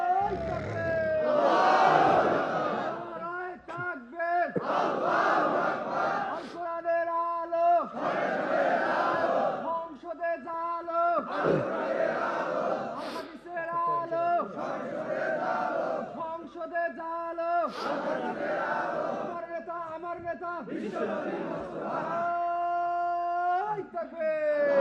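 A large gathering at an outdoor religious sermon answers a preacher with repeated loud collective shouts of the takbir, about eight chanted bursts in regular rhythm separated by brief pauses.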